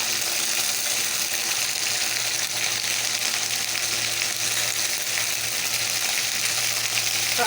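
Ginger paste sizzles in a frying pan with a steady, dense hiss that holds at an even loudness with no talk, as part of a Bengali pabda fish curry.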